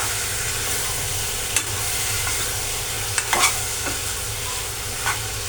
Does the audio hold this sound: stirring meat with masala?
yes